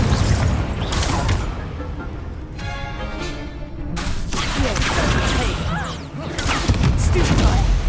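The Confringo blasting spell in Hogwarts Legacy goes off in a string of loud, booming combat blasts and crashes, with a brief quieter gap midway before the explosions pick up again.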